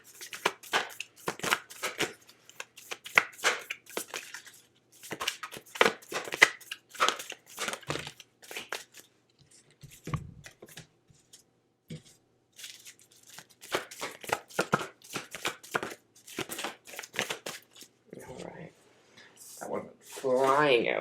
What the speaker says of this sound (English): Let me pull some oracle cards here for Leo.